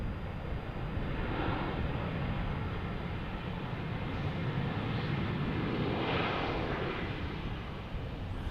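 An Alaska Airlines jet lands at Portland airport in Oregon with a steady, broad roar of engine and rushing air, constant and fairly loud, swelling slightly midway.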